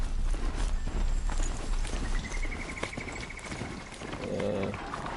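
Mechanical horse-like machine being ridden in Horizon Zero Dawn, giving a steady run of clip-clop footfalls with creaking, ratcheting metal parts, close and fairly loud, with a brief whirring tone and a clank near the end.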